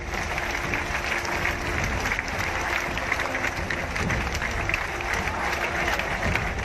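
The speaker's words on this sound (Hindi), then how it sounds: "लेफ्टिनेंट ऋषि की शहादत को सलामी देने आज हजारों की भीड़ उमड़ी।" Dense crowd noise from thousands gathered at the funeral procession of Lieutenant Rishi Kumar in Begusarai, Bihar: a steady, loud wash of clapping-like clatter and murmuring voices that runs unbroken throughout.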